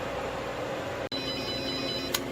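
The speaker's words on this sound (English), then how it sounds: "anybody who has a freeze dryer knows this dreaded sound" A freeze dryer sounds an alert over its steady running hum, a short pure multi-toned beep heard after a brief dropout, reporting a vacuum error following a USB board and screen replacement.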